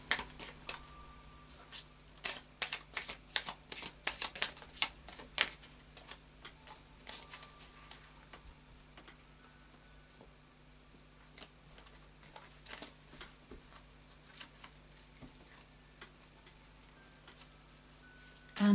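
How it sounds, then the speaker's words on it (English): Moonology oracle cards are shuffled by hand nearby, a busy run of soft riffling pats and card slaps that thins out toward the end over a steady low hum. "So a final shuffle of the Moonology cards."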